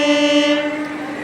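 A MEMU train creeps slowly into platform 3 while a loud, sustained horn blares close by for about a second, then cuts out into a lower mechanical hum.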